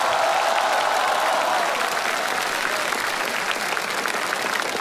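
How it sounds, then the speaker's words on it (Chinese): Dense, sustained audience applause fills a crosstalk and folk-performance theater in Shijiazhuang as a performer takes the stage, a loud continuous roar of many hands slowly easing off. "感谢 大伙儿的掌声鼓励啊！"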